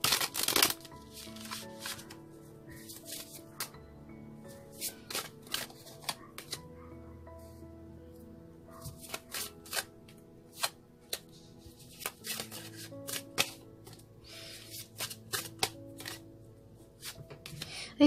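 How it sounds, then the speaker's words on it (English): A deck of playing cards is shuffled repeatedly at close range, with soft riffling and tapping bursts scattered across a quiet room. "One more shuffle, they say."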